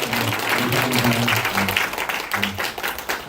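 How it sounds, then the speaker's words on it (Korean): Dense, steady applause from an audience at a business presentation fills the clip, with a low murmur of voices underneath. "박수 한번 치면서 시작해 볼까요?"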